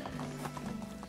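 Horse hooves clip-clopping in the medieval life-sim game Medieval Dynasty, a quick run of soft rhythmic hoof taps over a steady low game hum.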